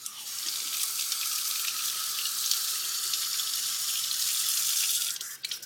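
Water runs steadily from a tap into a laundry tank, a continuous bright splashing hiss that stops abruptly near the end.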